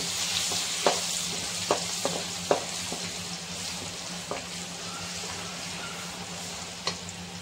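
Garlic and ginger paste fries in a pan for a prawn pickle, giving a steady close sizzle with occasional sharp pops and spatters throughout, and no talking.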